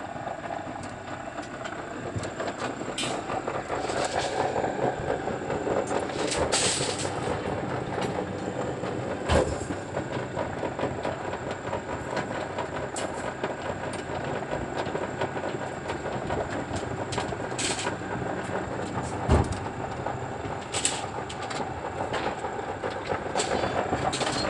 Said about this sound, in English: This is the cutting machine that cutted the rod or TMT